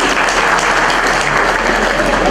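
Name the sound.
audience applause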